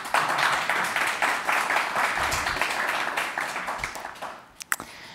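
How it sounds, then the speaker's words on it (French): Audience at a keynote event applauding in a dense steady patter of many hands that gradually thins and fades, ending with a few sharp isolated claps. "Vous pouvez vous applaudir."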